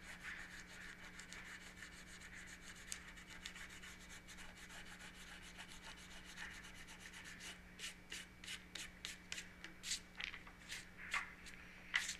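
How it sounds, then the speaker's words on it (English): A finger rubs masking fluid off watercolour paper, making soft, close scratchy strokes that repeat steadily and turn into quicker, sharper bursts toward the end, with no talking. "the way to do that now is to just rub it off with your finger"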